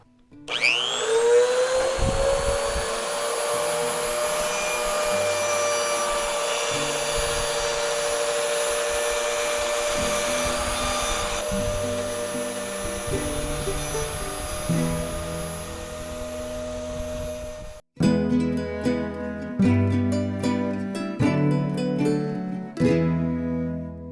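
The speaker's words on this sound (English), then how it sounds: "And now I'm simply going to route close to those lines." A woodworking router screams as it cuts close to marked lines, a loud, close high whine held steadily, then music with a plucked rhythm follows after the cutting stops.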